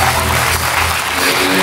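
Studio audience applause on a French TV talk show, a steady dense wash of clapping that holds loud and even through the whole moment.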